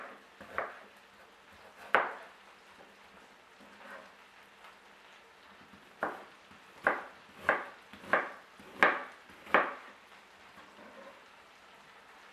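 A knife carves pieces out of an onion on a cutting board, with faint, sharp, regular taps, a few scattered at first and then a quicker run of six or so cuts.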